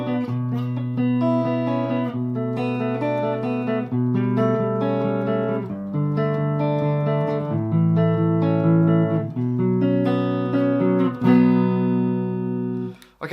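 Distorted electric guitar plays a verse riff, thick sustained chords with steady rhythmic changes, loud and close, about thirteen seconds with no talking.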